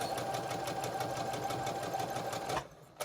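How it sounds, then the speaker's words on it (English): Sewing machine stitching a fabric face mask at high speed, a steady rapid whirring hum that runs for nearly three seconds, then cuts off abruptly. "my sewing machine is going faster"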